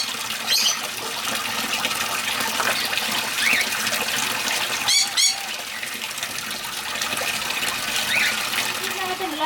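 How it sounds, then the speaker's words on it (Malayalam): Water from a garden fish pond's filter, holding koi and goldfish, pours steadily back into the pond in a continuous gushing splash, with chickens and other birds calling intermittently nearby. "ആ വെള്ളം തന്നെയാണ് ഈ ഫിൽറ്ററായിട്ട് ഇങ്ങോട്ട് വീഴുന്നത്"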